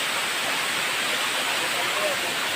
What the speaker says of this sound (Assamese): জলপ্ৰপাত, ধুনীয়া এটা জলপ্ৰপাত।